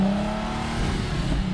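An Infiniti FX35 with a twin-turbocharged engine revs in a loud, continuous, droning surge that holds steady and close for a moment.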